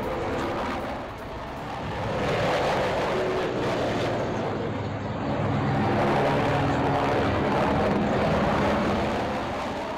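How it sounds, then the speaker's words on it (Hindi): Russian military helicopters pass overhead one after another, a loud sustained rotor and engine roar that swells and fades in waves over several seconds, with no voices. "एक के बाद एक कई हेलीकॉप्टर तेजी से उड़े।"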